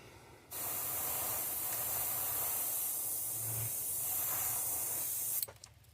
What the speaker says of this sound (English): we're gonna spray this orange on the belly and then up about to the midline